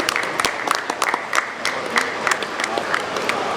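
Scattered applause from an event audience as a regional logistics manager is invited on stage, uneven claps with some crowd murmur and possible talk underneath.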